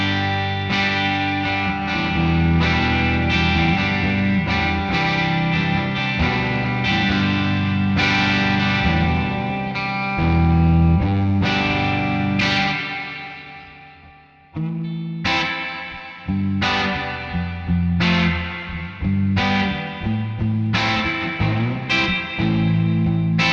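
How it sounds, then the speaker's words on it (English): Electric guitar chords run through a NUX Tape Echo pedal with its reverb set to half, each strum followed by a drippy, spring-like wash that rings out and overlaps, with a brief pause midway before the chords resume. "Sounds like a drippy spring reverb."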